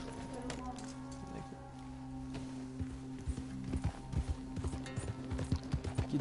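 Horse hooves clop in the Red Dead video game, starting soft and building into a quicker, louder run of hoofbeats over steady game music, with a voice talking at the same time.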